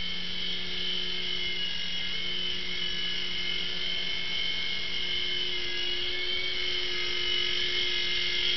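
A remote-controlled model helicopter hovers and flies nearby with a steady, high-pitched rotor and motor whine, constant and loud throughout, with no talking over it.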